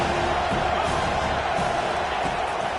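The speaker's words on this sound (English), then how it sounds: "Decibels rising as the crowd gets behind this defense on 3rd down." A large football stadium crowd roars steadily as the home defense lines up on third down, a dense, continuous wall of cheering with no break.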